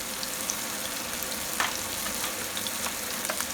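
Continuous hissing sizzle of tofu tuna sisig frying in a pan, dense and even at close range with a few faint pops and stirs, no one talking.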